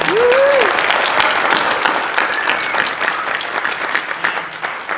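A crowd at a Girl Scouts women in STEAM educational event in Nevada applauds steadily, a dense wash of clapping that carries on for the whole stretch with a few cheers on top.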